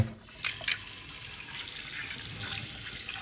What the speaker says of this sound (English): And we're just going to put cold water in here.